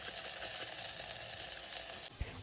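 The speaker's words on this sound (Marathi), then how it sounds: "आता हे सगळे इंग्रेडियंट्स छान प्रकारे गोल्डन होऊपर्यंत मस्तपैकी परतून घेऊयात" Spices with onion-garlic masala sauté in hot oil in a pressure cooker for dal khichdi, a continuous close sizzle with a brief clunk near the end and no talking.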